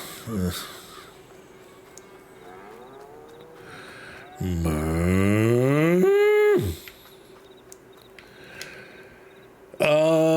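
Loud, drawn-out cow moos in the video game Farming Simulator, one long bellow rising then falling, with a shorter moo at the end and quieter animal calls between.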